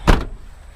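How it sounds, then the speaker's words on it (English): A truck door slammed shut once, a close, loud thud that quickly fades into quiet outdoor background. "let me shut my truck door"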